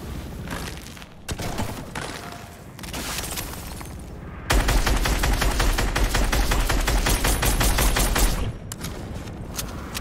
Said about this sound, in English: There's some shooting over here, huh?